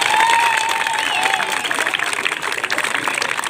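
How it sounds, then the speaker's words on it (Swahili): A crowd claps and cheers at a vehicle flagging-off event, a dense, steady wash of applause with a few louder whistles and shouts over it, lasting the whole stretch without letting up. "Mpigeni makofi basi."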